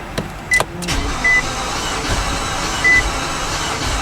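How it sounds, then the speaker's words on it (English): An Infiniti QX engine cranks with a steady starter drone, skipping a cylinder, broken by a few sharp clicks and brief tonal beeps at moderate loudness. "can hear it skipping a cylinder. Cranking speed's better."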